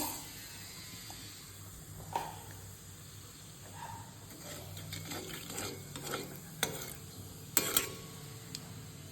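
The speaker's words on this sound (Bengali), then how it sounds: "তারপর অল্প আমি কালো জিরের ফোড়ন দেব" Nigella seeds (kalo jeera) dropped into hot oil left over from frying katla fish give a low, steady sizzle with scattered sharp crackles and pops that grow more frequent toward the end.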